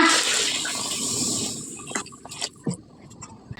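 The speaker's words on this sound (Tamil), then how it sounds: "நான் 5 கிளாஸ் அரிசி சேர்த்துக்கிறேன், 10 கிளாஸ் தண்ணி சேர்த்துக்கிறேன்." Water pours into a biryani pot holding rice, giving a loud, steady gushing rush that tapers off into a few separate splashes and drips.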